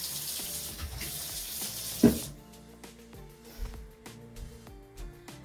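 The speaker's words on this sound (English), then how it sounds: "so I'm going to get a little bit of water." Water splashes steadily from a kitchen tap for about two seconds, then stops; quieter clinks and handling noises follow.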